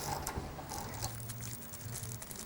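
A ratchet runs bolts down on a MetalCloak rear bumper, giving quick clicking bursts and short mechanical rattles, close and fairly quiet, in a brief burst of several pawl clicks.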